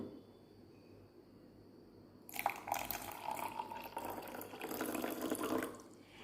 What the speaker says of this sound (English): Now we will add some water into this beaker.